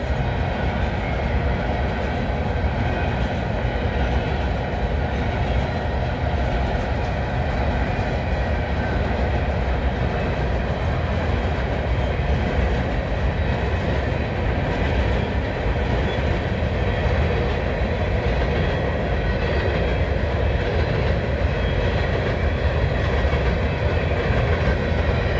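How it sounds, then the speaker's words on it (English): A passing train through Abbeville, South Carolina, with a GPU locomotive, rumbling steadily and loudly for the whole stretch, a dense continuous roar of rolling cars with no breaks and no voices. "Here's the noise, must be a GPU coming up."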